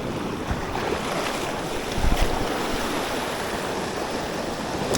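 Ocean swells wash against shore rocks where someone fishes, a steady roar of surf and churning water close by, with wind buffeting the microphone and a heavier surge midway.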